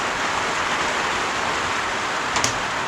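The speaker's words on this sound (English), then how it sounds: "Woo, and it's raining again." Rain falls steadily on a new workshop shed in a Tasmanian winter, making a dense even hiss that is loud and close, with a brief tap near the end.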